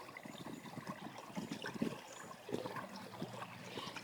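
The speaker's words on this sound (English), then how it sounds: "The water flows down" Water trickling and gurgling down a partly iced-over channel into a frozen garden pond in December, a soft, steady flow with small splashy bursts, fairly close and alone.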